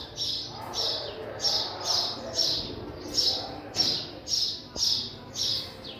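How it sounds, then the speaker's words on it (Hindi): A small bird in Pakistan calls in a steady, repeating rhythm, with about eight bright chirping phrases evenly spaced over faint outdoor background noise. "इसकी आवाज़ ना मुझे माशाल्लाह भाई बहुत पसंद है, आवाज़ चिड़िया की"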